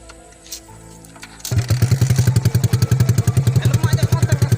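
A motorcycle engine starts up and runs with a fast, loud, close thumping beat, with brief voices and rustling before it fires.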